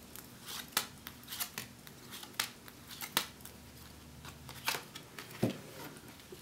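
Tarot cards are shuffled close by in quick crisp riffles and snaps, repeated bursts with short pauses between them, quiet and without talk.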